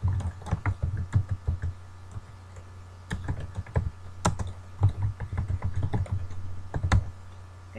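Typing on a computer keyboard, close and crisp, with quick irregular bursts of key clicks and a heavier spacebar or tab thump now and then, over a faint steady hum.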